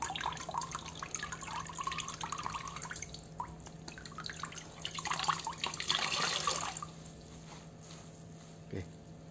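Water drips and trickles steadily from a twisted-loop microfiber car-drying towel into a basin, with a faint background hum and a brief louder splash near the end.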